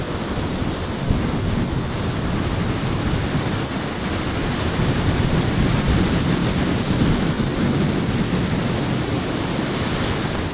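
Large ocean waves breaking at the northern point of Culburra Beach on a cold morning, a loud unbroken roar of surf mixed with wind buffeting the microphone.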